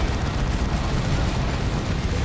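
A dense, continuous rumble of orbital strike explosions in the Dawn of War 2 strategy game, loud and roaring with no pauses.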